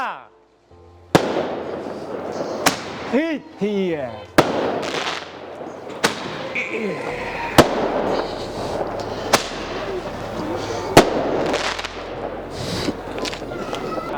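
Firecrackers and fireworks go off in a sharp series of loud bangs, roughly one every second or two, some followed by whistling or crackling bursts, while people talk and shout in between.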